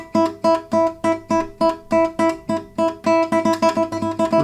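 Classical guitar tremolo exercise with evenly spaced short, detached plucked notes in a steady staccato pulse, then a quick burst of faster repeated notes near the end, close and clear with no talking.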